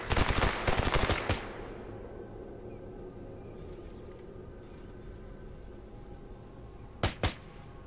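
Gunfire in the video game Stalker Anomaly: a sharp, loud burst of rapid automatic shots up front, then a long quiet stretch of low background rumble before two more quick shots near the end.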